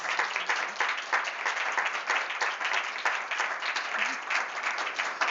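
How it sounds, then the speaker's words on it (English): Audience applause for the speakers at an artist conversation event, a steady, even roar of many hands clapping, moderately loud and sustained without talk. "Can we have a round of applause for our speakers?"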